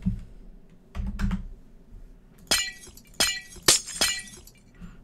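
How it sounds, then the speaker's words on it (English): Glass blocks placed in Minecraft give sharp, crisp shattering sounds like breaking glass, about four distinct bursts in irregular succession, near and alone, with softer clicks and taps before them. "when you put down glass, it sounds like you're actually breaking glass"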